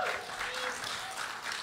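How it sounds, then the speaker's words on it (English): Audience applause at a poetry show in Durham, steady dense clapping filling the room throughout as a poet makes his way to the stage, with no pauses. "You keep applauding until he gets here."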